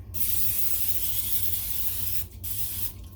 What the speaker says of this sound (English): I'm just going to use olive oil spray